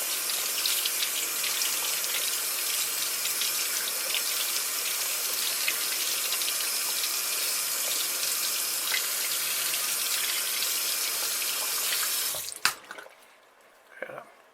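A paintbrush is rinsed under a running kitchen-style tap, a steady loud hiss and splash of water that stops abruptly near the end, followed by a few drips and a brief handling clunk.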